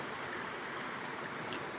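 A river in Panawangan, Ciamis, polluted by dumped rubbish, rushes in a steady, dense broadband wash, close and continuous with no voices.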